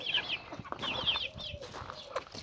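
A hen that seems unwell, fed rice in a farmyard, clucks repeatedly at close range in short rising bursts, with other fowl calls mixed in.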